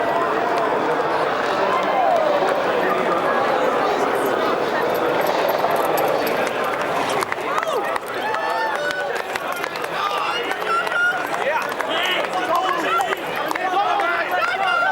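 A racecourse crowd cheers as champion sprinter Nature Strip is led back after a Group 1 sprint win, a broad, steady roar that stays loud throughout, with a commentator's voice running over it.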